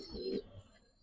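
A pigeon gives a single soft, low coo, faint and close, lasting under a second in a quiet setting.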